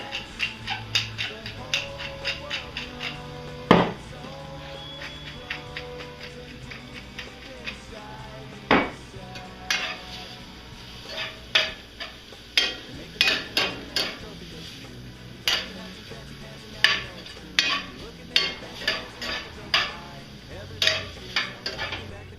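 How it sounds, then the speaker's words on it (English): Meat browning in a pan for stroganoff, stirred with a utensil: a soft steady sizzle runs underneath while sharp scrapes and clinks against the pan repeat at an irregular rhythm, fairly close and moderately loud. "Now stir this until the meat is brown."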